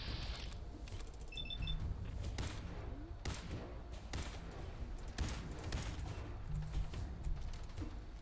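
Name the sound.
gunfire in the video game Fallout 4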